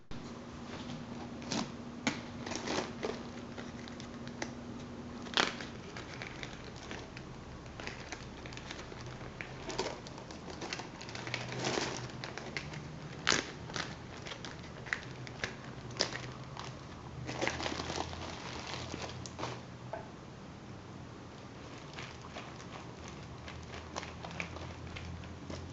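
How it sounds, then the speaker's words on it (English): A plastic Ziploc bag holding food in a koozie is folded open, producing faint, scattered crinkles and rustles in irregular bursts over a long stretch, with no talking. "I'm going to fold open my Ziploc bag and show you what the koozie with the food in it looks like"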